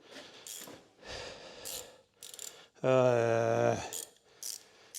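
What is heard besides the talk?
flexi head ratchet spanner tightening a bolt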